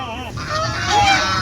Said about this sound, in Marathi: बदक.